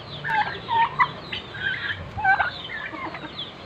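Turkeys gobbling repeatedly in warbling bursts while eating ripe guava, fairly close and loud, with a few overlapping calls over steady outdoor background noise.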